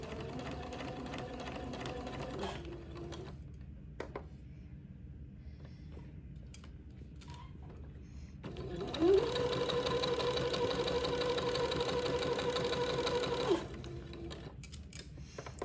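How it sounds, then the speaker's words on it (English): Sewing machine running in steady straight-stitch bursts, joining entredeux lace trim to a baby girl's bonnet; a short run at the start, a pause with quiet handling, then a longer, louder run of rapid even stitching. "using a straight stitch, I'm going to sew this entredot to the bonnet"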